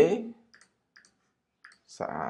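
A few faint, sharp mouse clicks spaced apart in near silence while saving changes on a website, followed by the start of a voice talking.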